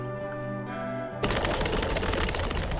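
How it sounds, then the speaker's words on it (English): A loud, dense burst of explosion effects from the gacha game Romancing SaGa Re: Universe erupts abruptly after a tonal musical passage and keeps rumbling and crackling to the end. "don't care about the explosion"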